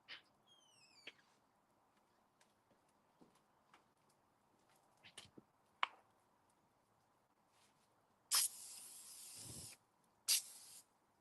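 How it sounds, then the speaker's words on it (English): Oil sprayed onto herb-infused lamb racks before grilling, two firm hissing bursts near the end, close and fairly loud, after quiet scattered clicks and handling noises. "I might spray this with a little bit of something before I put them on too,"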